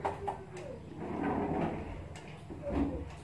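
Newly fitted cabinet doors beneath a kitchen sink are handled, giving a few soft wooden knocks and sliding clunks spread over a few seconds.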